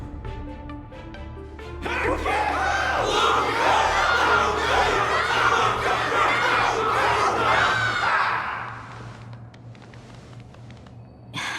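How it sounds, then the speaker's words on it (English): A large crowd in the Honkai: Star Rail game bursts into sustained, loud cheering and shouting for a battle's victor, holding for several seconds before dropping to a quieter murmur. "Everyone's cheering for you"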